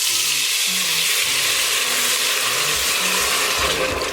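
Tomato mixture for Mexican spaghetti sizzling loudly in melted butter in a pan, a dense continuous frying hiss with faint low clinks and scraping underneath.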